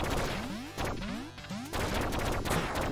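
Rapid bursts of cartoonish gunfire from the video game Duck Game during a team match, sharp cracks mixed with sweeping electronic tones, loud and dense with no talk over them.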